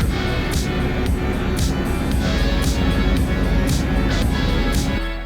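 Cabin noise aboard a small ATR passenger turboprop with about 35 seats on a one-hour flight to Botswana: a loud, steady engine drone and rushing air with a constant tone, broken by periodic brief rattling bursts.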